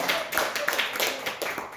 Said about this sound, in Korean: 박수 크게 한번 주세요.